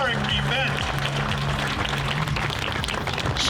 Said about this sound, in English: Let's hear a wonderful round of applause for this wonderful historic event.